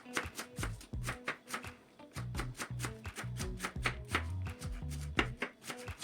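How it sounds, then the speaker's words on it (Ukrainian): A knife chops quickly through red cabbage on a board, a steady series of crisp thuds close by. "Просто беру ножем і нарізаю капусту."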